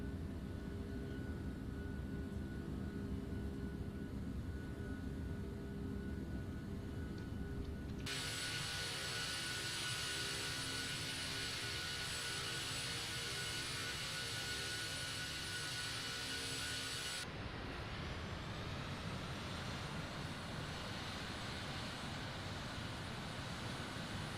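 Boeing 757-300 jet engines at climb power in a Prepar3D simulation, a steady loud roar with a broadband whine that jumps sharply brighter and higher partway through as thrust increases, then settles into a smoother rising tone.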